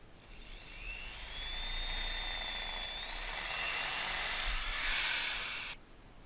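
Power drill whining steadily while boring a 3/32 inch hole for a boom vang fitting on an American Sail 14.6 sailboat, rising slightly in pitch as it cuts, then stopping abruptly near the end.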